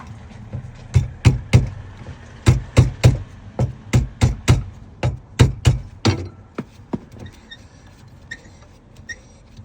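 Sharp metallic hammer-and-chisel blows on a damaged Fisker Ocean door ring out in irregular bursts in a backstreet garage, over a dozen strikes, loud and close, tapering to lighter clinks at the end.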